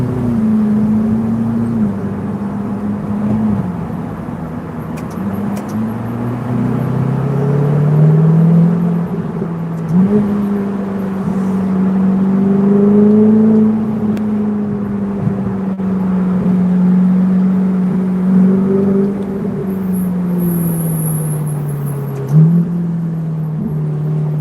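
Ferrari 488 GTB engine droning inside a tunnel, a steady low rumbling hum that swells and settles over about twenty-five seconds, heard from within the car with no talk.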